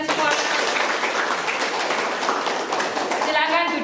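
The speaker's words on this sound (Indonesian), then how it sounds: "tepuk tangan untuk kalian semua." Classroom applause from students after singing, a steady dense wash of clapping filling the room, with voices mixed in underneath.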